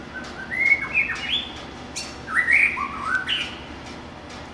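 A wild white-rumped shama (murai batu) sings clear, rich whistled phrases in two main bursts, close and fairly loud over quiet outdoor background noise.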